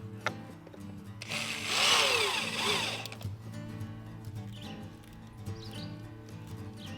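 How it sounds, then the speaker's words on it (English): A power drill drives screws into the boards of a wooden cart being assembled, a loud whirring burst of a few seconds followed by quieter motor hum and handling noises nearby. "I'm going to put the top screw in, and then the bottom, the single screw to hold the bottom board in"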